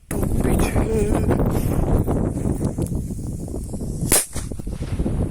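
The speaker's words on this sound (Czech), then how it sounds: "A je to posledná petarda." A small firecracker goes off outdoors with one sharp, loud bang about four seconds in, over steady wind rumble and some indistinct talk.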